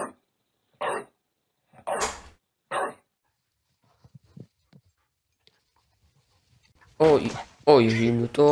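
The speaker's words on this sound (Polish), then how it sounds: "no to taki malutki piesek" A small dog pants in short, breathy bursts, each close and fairly loud, before a pause and then people talking.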